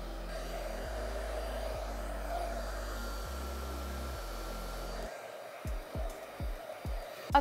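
A hair dryer blows hair straight under tension for a sleek, shiny blowout, giving a steady, fairly quiet whir for about five seconds before cutting off, followed by a few soft thuds.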